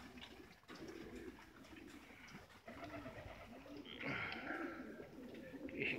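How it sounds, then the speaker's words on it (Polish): Pigeons coo softly and repeatedly in low, rolling calls, several birds close by in a loft compartment, with some faint background noise. "przepiękne gołębie, witalne, w zdrowiu"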